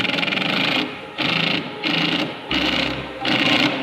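An impact wrench rattles in five short, loud bursts with brief pauses between them while coilovers go onto a BMW E36/E46. It is close and alone, with no talk.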